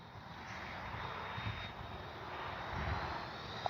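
A Freewing 90mm Zeus RC jet passes in slow flight with its flaps down, a faint, steady ducted-fan whine and airy roar heard from a distance.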